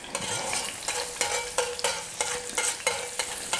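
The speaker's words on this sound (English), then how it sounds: "So you wanna just quickly brown your garlic" Garlic browning in olive oil in a pan, a steady close sizzle broken by regular scraping stirs about every third of a second, with no voices.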